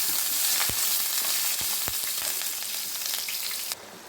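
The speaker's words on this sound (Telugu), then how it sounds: "పోపు వేగిపోయింది అల్లం పచ్చిమిర్చి వేసేసాను కరివేపాకు" Loud, continuous sizzling of tempering spices, ginger, green chillies and curry leaves frying in hot oil, with a few sharp crackles and pops, ending abruptly as the sizzle drops away.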